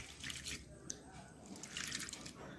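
Soaked lentils being rinsed by hand in water, with dripping, trickling and sloshing sounds close by, some brief clinks, and a steady faint background hum.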